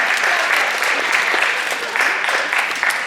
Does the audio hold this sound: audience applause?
yes